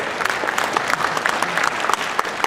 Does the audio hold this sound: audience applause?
yes